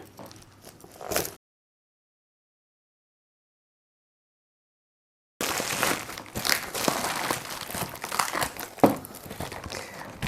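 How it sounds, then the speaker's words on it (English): Bubble wrap packaging around a Lattafa Suqraat perfume crinkles and crunches during unboxing, a brief close rustle, then a silent gap, then several seconds of continuous dense crinkling with a sharper crackle near the end. "Bubble wrap number 1 and bubble wrap number 2"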